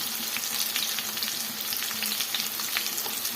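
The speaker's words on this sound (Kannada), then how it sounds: "ಇದು ಸ್ವಲ್ಪ ಫ್ರೈ ಮಾಡ್ಕೊಳ್ಳೋಣ." Cumin and fenugreek seeds frying in a pan: a dense, steady, close sizzle with light crackles throughout and no voices.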